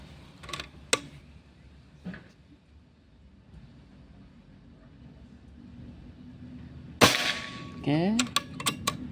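A Pajero Gun Gen 5 air rifle fires Hercules pellets, a sharp crack near the end following a few lighter clicks and a quiet pause, with voices talking just after the shot.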